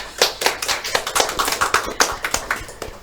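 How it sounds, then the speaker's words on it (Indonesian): A small audience at a community event in Balangan claps for guest speakers from Universitas Muhammadiyah Banjarmasin, individual hand claps distinct and quickly repeated in an uneven rhythm, fairly close and loud, with no talking. "Tepuk tangan buat narasumber kita hari ini"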